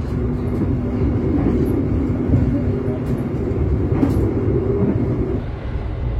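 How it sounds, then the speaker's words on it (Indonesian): Economy-class train carriage riding on rails: a continuous loud rolling rumble of the wheels with periodic jolts and clunks from the track, heard from inside the car. "teman-teman bisa dengar sendiri suara putaran rodanya bener-bener kerasa banget, kemudian hentakannya itu sangat kerasa banget ya"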